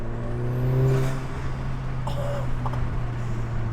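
A Volkswagen Golf R engine with an aftermarket IE V2 intake revs up with a throaty intake roar, then settles into a steady idle hum, close by.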